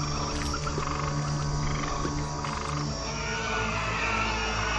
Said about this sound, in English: Let the waters bring forth frogs in abundance.